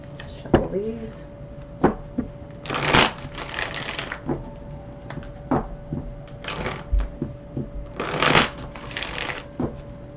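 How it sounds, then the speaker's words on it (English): Tarot cards are shuffled by hand in repeated bursts of crisp riffling and soft flicks and taps, close and fairly loud, separated by short pauses. "Shuffle these."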